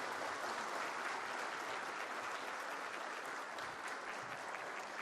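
A standing audience at an agriculture summit gives the minister loud, sustained applause, a dense, even roar of many hands clapping with no pause and no speech over it.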